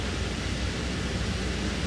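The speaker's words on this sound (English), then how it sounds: "if you hear that noise in the background, that's just the heat" A heater runs in a mobile salon bus, producing a steady, loud broadband whooshing rumble that holds constant with no variation or other sounds.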